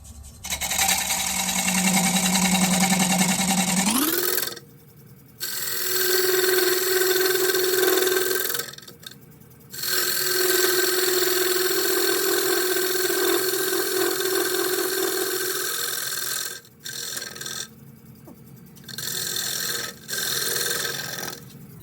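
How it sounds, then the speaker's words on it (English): A wood lathe spins an 8x4 Black Cherry bowl as a 3/8 inch bowl gouge cleans up the edges, giving loud, steady cutting noise in several long passes broken by short pauses, with no talking. "I was able to clean up this end with the bowl gouge"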